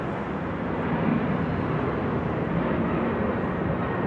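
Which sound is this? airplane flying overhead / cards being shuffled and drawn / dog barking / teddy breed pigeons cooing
airplane flying overhead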